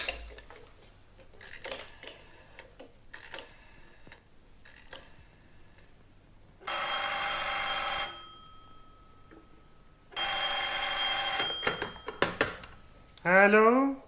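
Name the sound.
telephone ringing in audiobook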